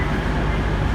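Diesel train engines idle at Plymouth station with a dense, steady low rumble and broad mechanical noise, close and constant throughout the moment.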